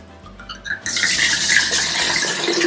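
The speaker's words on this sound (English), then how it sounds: "Let's start with the wine. So you simply pour it all in at the same time." Wine for sangria is poured all at once into a pitcher, starting with a few clinks and trickles before a steady, loud liquid rush takes over.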